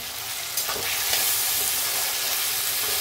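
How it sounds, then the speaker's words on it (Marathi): Peas sautéing in oil in a pan for veg biryani, a loud continuous close sizzle with a couple of sharp stirring scrapes near the start, no talking. "वाटाण्याला पण चांगलं परतून घेऊ"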